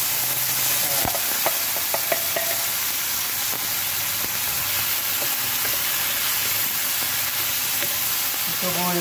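Indian-style beef curry with softened tomato is stirred in a sizzling pan, a loud, steady frying hiss running throughout with intermittent scraping strokes of the spatula, close up and without speech.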